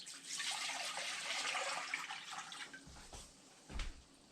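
Water pours into a pot in a steady, splashing stream that thins out, followed by a couple of low thumps, close by and without talk.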